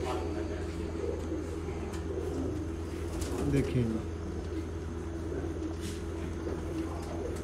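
Pigeons, a Missi female paired with a Lal Pari male, coo softly in a loft, with faint chirps and a brief flutter around the middle while someone talks briefly.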